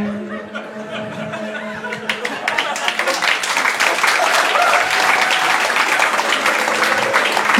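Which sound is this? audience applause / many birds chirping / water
audience applause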